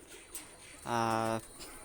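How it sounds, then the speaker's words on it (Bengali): A single close, loud coo from one of a pair of golden pigeons, Pakistani high-flyer breed, rising clearly for about half a second against a quiet background. "তো ভিউয়ার্স এই এক পেয়ার গোল্ডেন কবুতর দেখেন"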